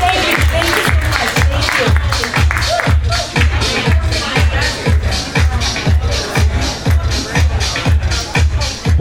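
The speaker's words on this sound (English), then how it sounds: "Let's give our newlyweds a nice round of applause." Wedding guests at a reception in Foxborough applaud the newlyweds with loud, sustained clapping and a rhythmic low thumping beat underneath, filling the whole stretch.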